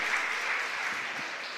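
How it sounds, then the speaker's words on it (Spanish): Church congregation applauding at a Christian community service, a steady continuous wash of clapping from many hands filling the room, with no talking over it. "si vamos a aplaudir, aplaudimos bien duro, fuerte."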